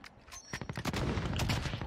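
Rapid bursts of gunfire in a Call of Duty Warzone match, loud and dense shots stacking over about two seconds with no talk.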